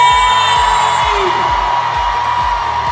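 A concert crowd at a 2017 pop show screams and cheers loudly and continuously, a dense roar layered over pulsing, steady bass-heavy music.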